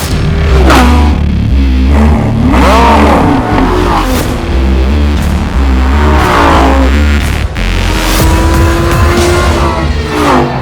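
A powerful Lamborghini Gallardo LP550 V10 engine revs repeatedly, rising and falling in pitch, loud and close with a harsh roar; no talking.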